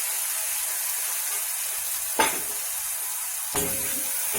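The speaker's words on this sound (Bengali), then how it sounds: "এবারে আমি মশলাটা জলে গুলে এর সঙ্গে মেশাচ্ছি" Onions and water-mixed spice paste sizzling in a pan for paneer, a loud constant bright hiss with two short scrapes of stirring, close up and without voices.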